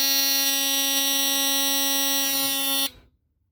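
A GE Home Sentry 8201 smoke alarm sounds its low-pitched test buzz, a loud, steady, harsh drone that cuts off abruptly near the end.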